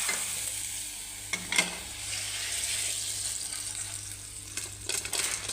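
Mustard seeds poured into hot oil in a pan while making a Kerala vegetable curry, giving a steady close sizzle and crackle with brief scraping stirs near the start and end.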